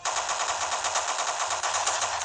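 Rapid automatic gunfire rattles continuously in a shooting video game, a dense unbroken burst that stays loud and close for the whole stretch with no talk.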